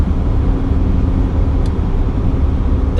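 A year-old truck with roughly 243,000 miles on it cruising down the road, giving a steady, dense rumble of engine and road noise that stays close and constant throughout.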